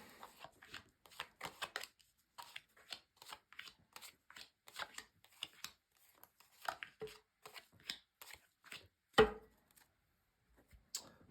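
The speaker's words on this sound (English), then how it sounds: "so we could shuffle. And just going to lay down your 10 cards" Tarot cards are shuffled in quick, crisp riffles and snaps, followed by several soft taps as cards are laid down one by one on a table, close and quiet.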